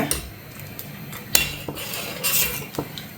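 A spoon stirring a ragi smoothie mixture as it thickens in a pan, irregular light scrapes and clinks of metal against the pan, close and fairly quiet with no voices.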